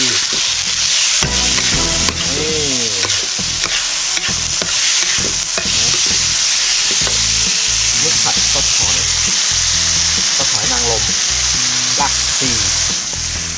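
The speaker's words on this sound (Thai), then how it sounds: "ผัดมึกนะมึกผัดซอสหอย มึกผัดซอสหอย ผัดรากผักชี" Squid stir-fried with oyster sauce and coriander root gives a steady loud sizzle, with the rhythmic scrape and clatter of a spatula stirring in the pan close by, and a voice speaking briefly.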